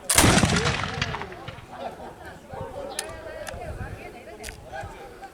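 A musket fires in a historical demonstration at Old Fort Niagara: one loud, sharp blast opens the clip, then its echo and crowd noise fade out over several seconds.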